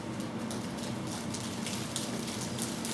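A group taps single fingers against their palms to imitate light, thin rain on soil, producing a steady, dense patter of soft pattering taps throughout, close and without speech.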